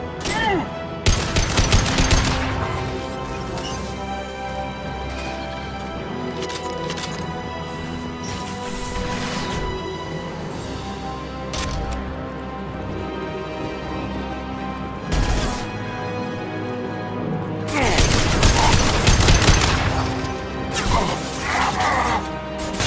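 Video game gunfire in bursts and rapid volleys, loud and close, with mechanical clatter and heavier barrages near the start and again toward the end.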